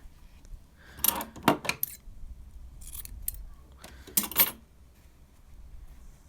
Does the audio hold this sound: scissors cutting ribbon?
yes